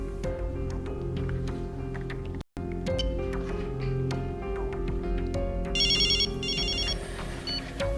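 A telephone rings with an incoming call, a melodic electronic ringtone repeating in short bursts over a tense dramatic score, briefly cut by a dropout, with a chirping trill near the end.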